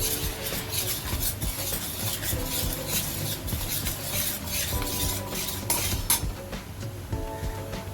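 A spoon scrapes and clinks against a pot while stirring a homemade masala mixture with coriander powder and turmeric, a steady, close rubbing and clinking that continues throughout with no talk.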